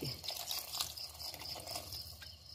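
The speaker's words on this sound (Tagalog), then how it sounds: "Lalagay na tayo ng kunting tubig" Water is poured into a pan while sotanghon noodles cook, a faint, steady liquid splashing and trickling with soft sizzle underneath, no voices.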